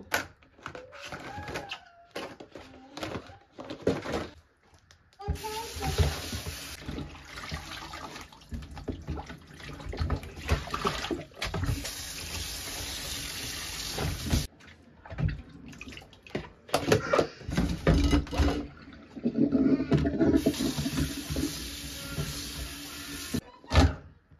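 Vegetables are washed in water in a home kitchen, with splashing, swishing and running tap water coming in irregular bursts, broken by brief quiet pauses and handling clatter.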